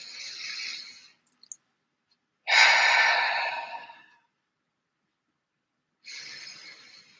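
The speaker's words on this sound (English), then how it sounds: "I'm going to start by taking 3 deep breaths" A person takes slow, deep breaths, each a long, airy exhale heard close and clear, separated by stretches of silence, three breath sounds in all.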